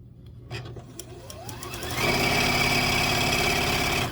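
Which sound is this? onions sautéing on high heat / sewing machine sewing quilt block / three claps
sewing machine sewing quilt block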